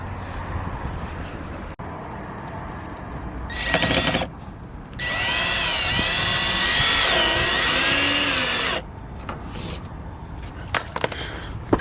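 Power drill driving a screw while fitting skirting boards, in two bursts: a short whine followed by a longer, steady high-pitched run that slows near the end, close and loud.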